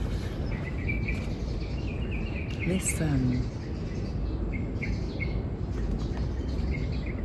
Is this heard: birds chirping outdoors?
yes